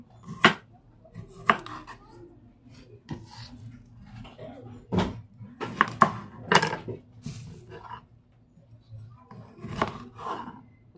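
A knife cuts leftover cucumber on a cutting board, making a handful of scattered, crisp chops with quiet gaps between them, close and clear against soft kitchen background noise.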